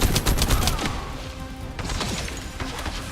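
Gunfire in the shooter game The First Descendant, rapid automatic bursts of sharp shots up close, with a quieter stretch of scattered impacts between volleys.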